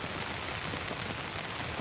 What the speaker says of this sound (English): and nice rain coming down